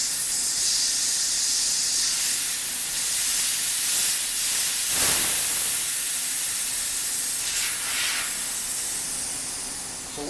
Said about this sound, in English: So once you've released the pressure,